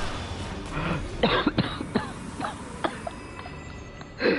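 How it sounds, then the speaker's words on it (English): Repeated coughing from a player during an Elden Ring: Shadow of the Erdtree boss fight: several sharp, close bursts scattered over a few seconds, with game sound quietly underneath. "I'm gonna have a coughing fit in the middle of a boss fight"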